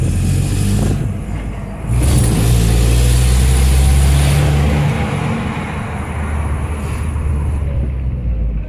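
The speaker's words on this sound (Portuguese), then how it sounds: "o Tonho tá com tanta pressa que ele passou até um carro ali" Car engine running steadily and accelerating on a narrow country road while overtaking another car, a loud, continuous low rumble with a brief surge around two seconds and no talk.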